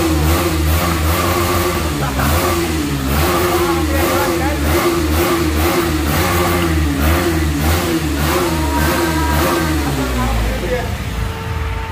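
A motorcycle engine, a KTM, revs loudly and repeatedly, pitch climbing and dropping in quick bursts before settling toward idle, with voices faintly beneath.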